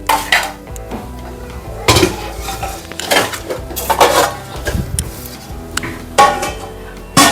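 A metal plate set down as a lid on a pan of ridge gourd curry, giving several sharp clattering clinks and scrapes of dishware and cutlery at irregular moments, close and fairly loud.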